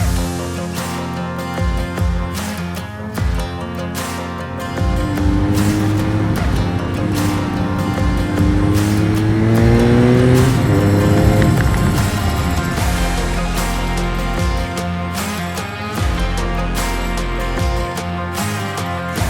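A BMW R nine T motorcycle engine pulls hard under acceleration, its loud drone rising steadily in pitch through the gears and then holding at a strong, steady roar for much of the run.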